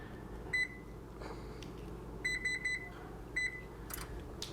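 An oven control panel gives a series of short, bright electronic beeps while being set to 350 degrees: single chirps and a quick run of three, each tone clear and near, over a low steady room hum.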